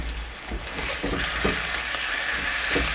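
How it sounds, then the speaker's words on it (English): Steady, crackling sizzle of diced chicken breast strips frying over charcoal, a dense continuous hiss with occasional louder pops, close and fairly loud. "Hear that sizzle?"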